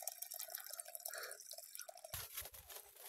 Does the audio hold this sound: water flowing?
yes